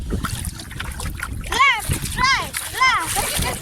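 Water splashes from a small boat on a trip around Munroe Island, Kerala, with lapping bursts mixed under excited, high-pitched voices talking and calling out over it.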